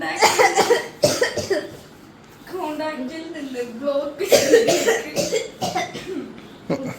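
Close, loud coughing bursts with throat noise, broken by a stretch of spoken voice in the middle before more coughs follow.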